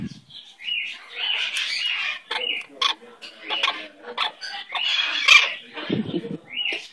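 Pet bird calling, with chirps, squawks and warbling calls in quick irregular bursts, close and fairly loud, and some short low sounds near the end.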